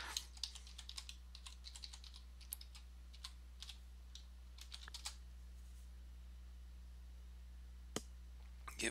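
Keys clatter on a computer keyboard while software is set up on a Linux Mint machine, in light, uneven bursts with a steady low hum underneath and one sharper click near the end.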